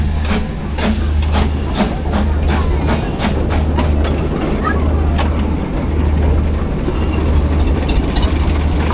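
A Motor Rail Limited miniature railway locomotive from Bedford, England runs at a steam rally with a steady low diesel engine drone, joined by faint rhythmic clicks and background crowd chatter.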